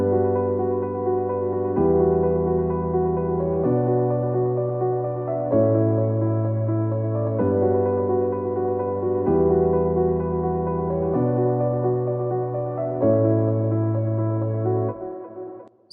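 Sustained FL Studio synth chords with delay, OTT compression and send reverb for a progressive house intro, changing chord every two seconds in a steady, loud, dense wash with no talking.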